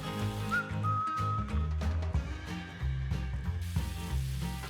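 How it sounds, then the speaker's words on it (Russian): Tomatoes sizzle in a frying pan with chicken gizzards, a steady close hiss of frying with occasional clinks and stirring, with no talking. "Теперь добавляем помидоры в сковороду."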